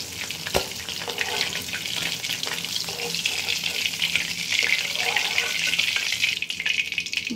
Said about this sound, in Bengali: মাছটা ভাজা হয়ে গেছে, উঠিয়ে নিয়ে ওই তেলেই বড়িটা ভেজে নেব।